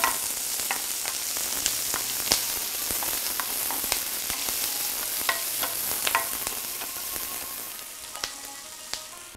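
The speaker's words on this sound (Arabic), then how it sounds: "نضيف الثوم فوق البصل، نكمل طبخة لمدة دقيقة" Garlic and onion sizzle steadily in a pan, loud and close, while a spoon stirs and scrapes with scattered clicks, and nobody talks.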